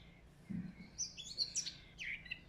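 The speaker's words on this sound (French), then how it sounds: "Tous les jours, c'est ce petit oiseau qui vient nous chanter." A small garden bird singing nearby, several quick high chirps and twittering phrases over about two seconds against a quiet background, with a soft low thump early on.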